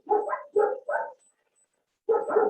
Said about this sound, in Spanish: se siente el ladrido de perros